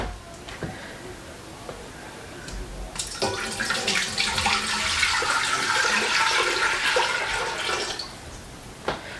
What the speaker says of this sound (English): I'm going to go ahead and bring my water into my pot